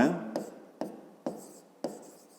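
Pen writing on paper during a fifth-grade geometry exercise, with soft scratchy strokes broken by several sharp taps at regular intervals, close and fairly quiet.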